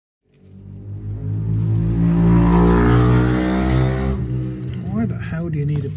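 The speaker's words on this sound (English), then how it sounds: "Do you need a pissing bike that bloody loud?" A loud motorbike passes close by outside, its engine building from silence to a sustained roar and then fading away, with a voice speaking faintly near the end.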